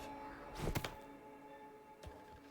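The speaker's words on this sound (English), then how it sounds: "I heard a soft thud next to me, an indication that the girl was in front had moved to sit down next to me" A soft, dull thud of someone sitting down, a sound effect from the visual novel game The Hundred Line: Last Defense Academy. One muffled thump is followed by a fainter second one over a quiet, steady background hum.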